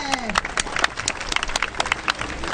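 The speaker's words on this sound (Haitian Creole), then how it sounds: "On nous applaudit à clap, s'il vous plaît" Crowd applause bursts at an outdoor carnival caravan parade in Miragoâne, Haiti, with dense irregular clapping, loud and close, lasting throughout.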